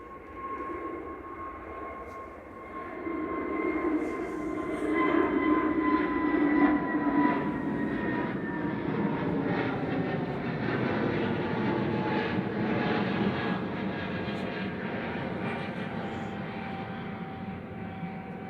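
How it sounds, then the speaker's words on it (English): An Airbus A320neo jet roars steadily at Manchester Airport as it heads out for Oslo, a loud sustained engine rumble with a whining tone that swells and holds, no voices. "So that's heading back to Oslo, SERZZ there with Flight 4610, A320 Neo."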